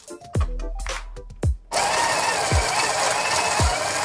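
A Breville Smart Grinder Pro burrs through coffee beans at grind setting 15, a steady loud whirring grind that starts abruptly after a few clicks and thumps, with low thuds recurring during the run.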